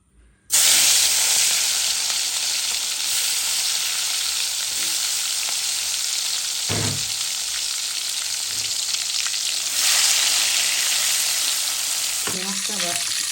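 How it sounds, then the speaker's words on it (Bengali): Oil with turmeric, salt and sugar fries loudly in a pan, a strong continuous sizzle that starts abruptly and holds steady, with occasional utensil knocks and scrapes. "একটু ভেজে নিব।"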